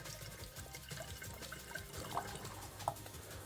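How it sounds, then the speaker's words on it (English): Tap water runs into the tank of a Kärcher SC2 steam cleaner, a quiet steady trickle and splash with a couple of small drips, close and otherwise alone. "as you can use the tap water in here as well. We're gonna fill it up."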